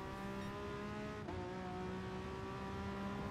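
Peugeot VGT race car in Gran Turismo Sport powering out of a corner at Dragon Trail Seaside, a loud steady high-revving engine drone with a brief gear-change dip, continuous and alone.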